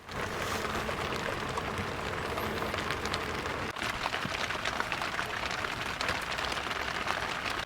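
Heavy rain pours steadily on a boat in the middle of the Godavari river at night, a dense, even hiss of drops drumming close by with no voices.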